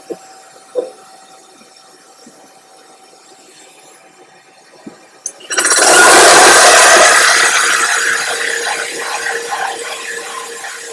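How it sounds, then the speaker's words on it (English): A Milwaukee Diamond MAX hole saw bites into porcelain tile: a few quiet clicks and taps, then the power tool suddenly starts a loud, harsh, continuous grinding that slowly eases off. "That's making a cut in porcelain tile much faster, much more consistent, much cleaner."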